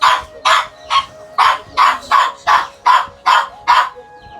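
A dog barks loudly and close by, about ten sharp barks in a regular rhythm, each clearly separated by short pauses, with no talking.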